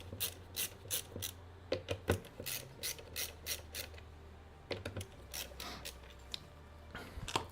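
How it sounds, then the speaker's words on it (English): An LTT ratcheting screwdriver clicks in bursts of quick, close ratchet ticks, with short pauses and a few louder snaps between runs, amid faint workbench handling. "There's my LTT screwdriver."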